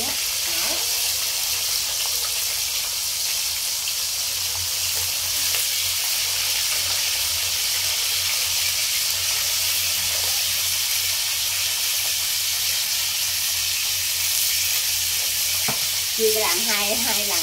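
Fish frying in hot oil in a small pan, a loud, continuous sizzle and spatter heard up close, with a few louder crackles and faint talk near the end.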